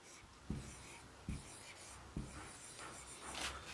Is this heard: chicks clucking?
no